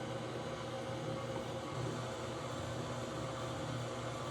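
A KitchenAid stand mixer runs with its dough hook fitted, giving a steady, even motor hum with a faint whirring texture and no talk or other sounds over it.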